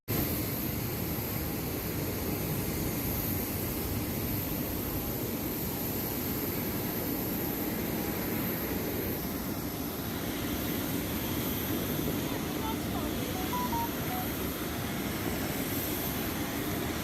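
Steady, loud jet engine roar fills the cabin of a passenger airplane on a flight out of Nigeria, a constant broadband rush with no voices.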